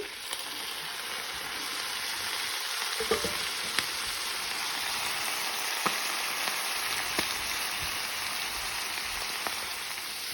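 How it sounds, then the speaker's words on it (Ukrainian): Coral mushrooms sizzle steadily in melted butter in a pan, a dense, even frying hiss with a few faint clicks of stirring, close up and continuous with no voices. "Масло розтопилось, висипаємо сюди наші грибочки."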